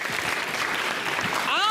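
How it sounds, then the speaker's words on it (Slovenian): Audience applause for the winning primary school at a school quiz contest, a sustained broad clapping wash with a voice talking over it and a rising tonal sweep near the end. "En velik aplavz."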